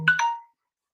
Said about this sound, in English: my phone's just gone off